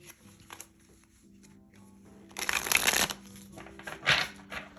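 A deck of tarot cards is shuffled close by, with soft scattered riffles building into two louder bursts of rapid flapping, then trailing off into light handling.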